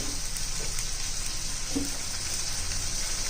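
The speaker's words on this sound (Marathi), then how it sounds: "छान असं तेल सुटेपर्यंत आपण आता परतून घेणार आहोत चांगलं तीन चार मिनटं तरी" Masala for a dhaba-style farsan curry sautés in oil with a steady, close, hissing sizzle, unbroken and even throughout.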